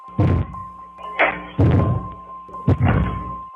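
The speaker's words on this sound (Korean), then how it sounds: "쿵쿵거리는 의문의 소리가 들려온 곳은 분명 위쪽이었습니다." Mysterious heavy thumping coming through the ceiling from the floor above in an apartment, four dull, booming thuds spaced about a second apart, loud and low with nothing else heard.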